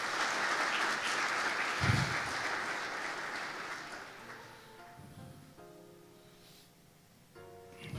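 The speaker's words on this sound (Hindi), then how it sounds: "जोरदार तालियां खुदा के लिए।" A church congregation claps loudly together, and the applause gradually fades as soft sustained instrumental tones emerge underneath toward the end.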